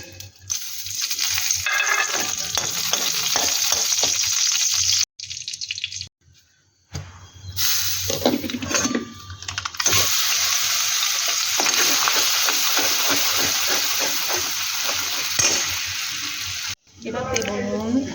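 Garam masala tempering in oil in a wok, a loud bright crackling sizzle with stirring scrapes that cuts out in short gaps and resumes.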